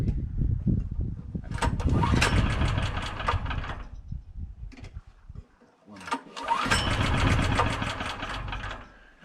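A Triumph TT600 motorcycle is cranked on choke and fails to start, with two long bursts of starter whirring and sputtering engine noise split by a brief pause.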